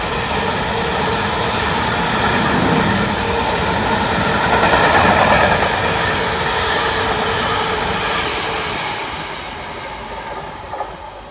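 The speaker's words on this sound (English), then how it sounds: "We've got a class 66." A Freightliner Class 66 diesel freight train passes at close range near Harborough on the line toward Tottenham, its steady broadband rumble and wagon rattle swelling to a peak mid-pass, then easing slightly as it continues through.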